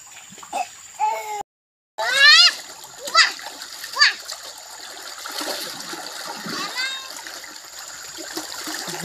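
Children bathing in a ditch stir up water, giving irregular near splashes and splatters over a steady running-stream hiss, with children's voices and shrieks breaking in throughout.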